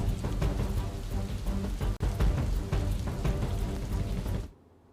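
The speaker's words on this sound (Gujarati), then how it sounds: "વહેલી સવારથી વરસાદ શરૂ થયો છે" Heavy rain pours down in Ahmedabad, a dense, loud, continuous roar of drops hammering surfaces close by, holding steady for several seconds before cutting off abruptly.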